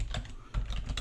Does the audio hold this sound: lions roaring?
no